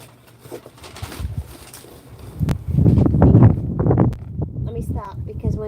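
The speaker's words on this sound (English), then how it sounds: "Let's wait for the wind to pass." Gusty wind buffets a microphone outdoors on a patio garden, rising into a loud rumbling blast midway before easing, with a person talking over it.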